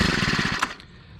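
A Troy-Bilt 4-cycle trimmer engine with a newly replaced carburetor fires in a quick, loud burst of rapid chugging pulses, then cuts out abruptly after about half a second.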